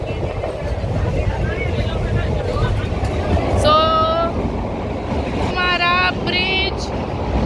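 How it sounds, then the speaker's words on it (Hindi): A moving passenger train rumbles steadily with wind buffeting the microphone, while a high squealing whistle-like tone rises briefly twice near the end; a voice talks faintly in the background. "तो हमारी ट्रेन चल चुकी है।"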